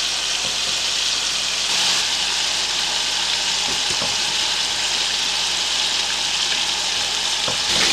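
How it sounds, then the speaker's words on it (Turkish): Hanibana köfte meatballs fry in hot olive oil with a steady, dense sizzle that runs unbroken throughout, close and fairly loud. "Köfteleri kızarttık."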